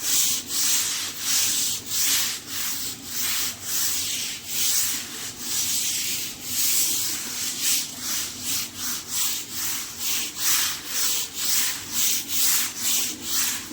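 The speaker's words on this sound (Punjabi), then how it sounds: "ਇਸ ਤਰੀਕੇ ਨਾਲ ਆਪਾਂ ਹਲਕਾ ਹਲਕਾ ਸਾਰੀ ਫਰਸ਼ ਰਗੜ ਲਾਂਗੇ" A floor being scrubbed to remove moss, with rhythmic back-and-forth rubbing strokes repeating steadily at close range throughout.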